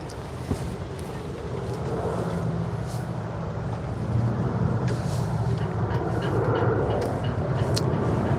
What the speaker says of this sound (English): We're going to have an airplane going overhead in a minute.